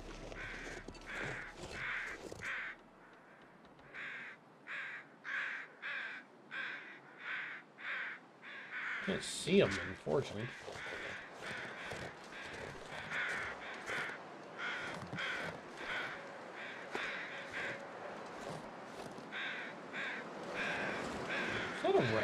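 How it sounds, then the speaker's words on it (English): Crows caw repeatedly in a survival video game set in the wilderness, a steady series of harsh calls spread through the scene, moderately distant, with someone talking briefly over them. "There's some fucking crows over here,"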